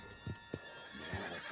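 A horse in the Red Dead Redemption 2 video game gives a whinny and then clip-clops, with a few soft hoof thuds set against a low, steady game background hum.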